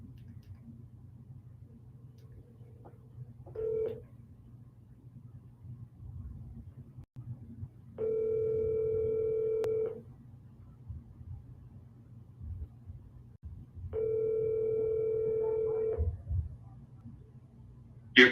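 A telephone call rings out before going to voicemail: three evenly spaced ringback tones, the first short and the next two long, sound over a faint low hum, ending with a sharp click.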